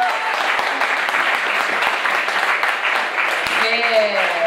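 An audience at a music event applauds a young singer with sustained clapping and scattered cheers, and a voice starts speaking over the tail of the applause.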